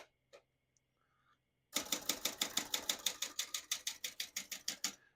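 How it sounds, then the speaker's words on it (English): Typing on a 1974 Olympia SF vintage ultra-portable typewriter: a rapid, even run of sharp key strikes close up, each a crisp clack, following a few isolated taps after a short quiet pause. "As you can see, all the keys type nice and none of them skip or stick."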